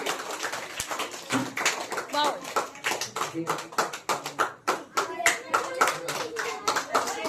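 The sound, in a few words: loud clapping by audience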